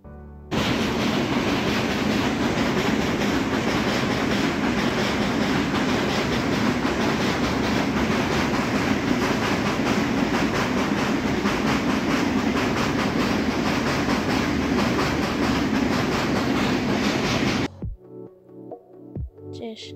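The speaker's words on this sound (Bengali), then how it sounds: "ট্রেন যাওয়ার দৃশ্য, শব্দ সব মিলে একটি অপরূপ সৌন্দর্য।" A train roars past close by for a long stretch, a dense steady rumble and clatter that cuts off abruptly near the end.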